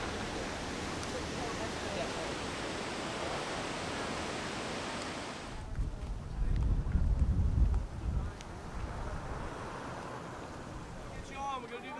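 Steady broadband rush of a boat moving over water off Kauai, Hawaii, with wind buffeting the microphone and a louder engine-like rumble swelling midway.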